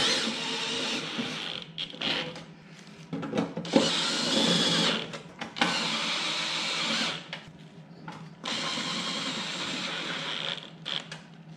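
A power drill drives screws back into a snowblower during maintenance, with several bursts of whirring and ratcheting separated by short pauses, fairly close and loud, with no talking.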